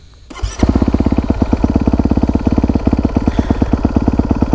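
A fuel-injected four-stroke dirt bike is push-button started: a short starter whir, then the engine catches and settles into a loud, close, rapid, even idle thump that continues to the end.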